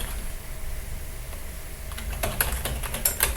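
Fingers tap out a password on a computer keyboard, a short burst of light, quick clicks after a quiet start with faint background hum, no talking.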